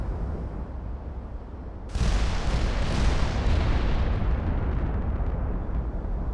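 Mark V guns of a refitted Des Moines class battleship firing in the Ultimate Admiral Dreadnoughts naval game, a sudden loud booming salvo that rolls on into a long rumbling decay.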